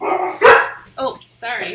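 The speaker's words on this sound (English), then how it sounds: "If you can hear him barking" A dog barks a few times close by, mixed in with a person speaking briefly over it.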